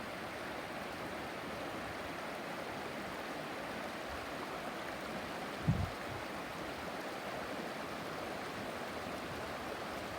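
A river in August, its steady broadband rush of flowing water continuing evenly throughout at a moderate level, with a brief low thump partway through and no voices.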